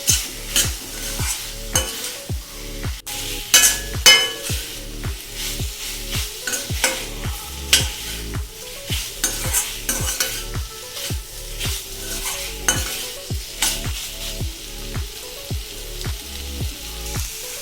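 Mutton liver fries in a pan while being stirred, a steady sizzle under repeated rhythmic scraping and clattering of a spoon against the pan, close and fairly loud.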